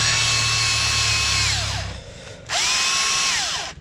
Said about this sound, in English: The battery's drying on the drill.